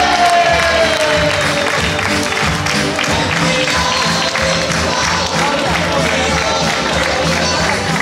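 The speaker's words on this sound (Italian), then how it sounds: "un bel applauso forte forte" Loud, sustained applause and crowd cheering at an 18th birthday party, dense clapping continuing throughout with music and voices mixed in.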